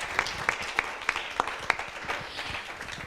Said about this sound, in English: An applause for Victor and Christopher.